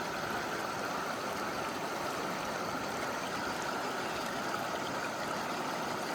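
A river current flows steadily as a continuous, even rushing wash with no breaks and no voices.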